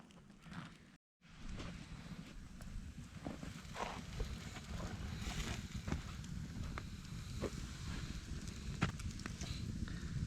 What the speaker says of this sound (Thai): กองไฟสำหรับคืนนี้ครับ